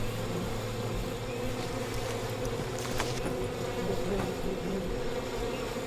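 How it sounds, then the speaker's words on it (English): A swarm of bees hums in the video game We Happy Few, a continuous, steady droning buzz that holds at an even level throughout with no talking. "I'm gonna need some sort of padded suit, or these bees are gonna kill me."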